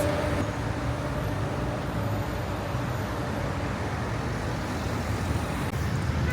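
Busy street traffic in Casablanca, with cars arriving from every direction: a dense, continuous roar of passing engines and tyres, steady and fairly loud throughout with no pauses.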